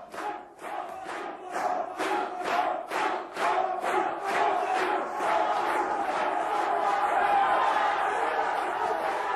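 A large crowd at the 1988 World's Strongest Man competition cheers and chants in loud rhythmic bursts, roughly a dozen pulses in steady beat that then merge into a sustained roar.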